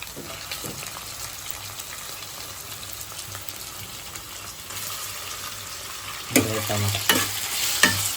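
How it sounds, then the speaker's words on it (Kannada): Ripe tomatoes, cut into long strips, fry and are stirred in a pan while cooking egg masala, giving a steady sizzle with scraping spoon strokes and a few louder clatters near the end. "ಆ ಥರ ಫುಲ್ಲು ಫ್ರೈ ಮಾಡ್ಕೋಬೇಕು."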